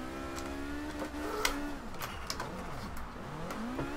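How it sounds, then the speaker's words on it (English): Rear-engine car sliding sideways while drifting in Forza Horizon 2, its engine revving high and wavering in pitch as the tyres spin, a steady loud drone with small rises and dips throughout. "It's got the tyre spin that we need."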